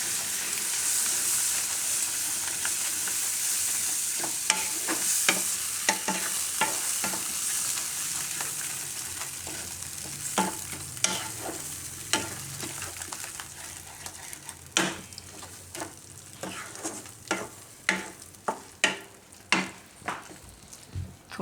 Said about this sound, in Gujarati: દહીંને મિક્સ કરી લઈશું આમાં